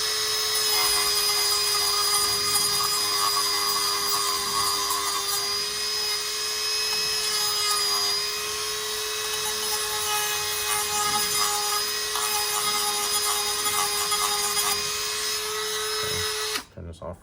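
Two wooden pieces held together are worked by a power sander, a loud steady high whine with grinding friction that runs nearly nonstop before cutting off abruptly at the end.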